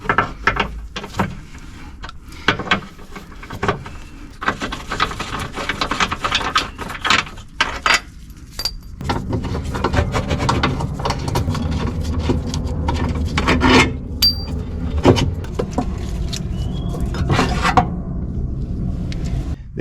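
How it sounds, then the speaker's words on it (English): A wrench works loose a corroded 18mm bolt on a car's front lower suspension arm, giving a close scraping, rasping grind with clicking ratchet strokes, steady and continuous for most of the stretch. "Loosen the 18mm bolt at the front and loosen the rear bolt."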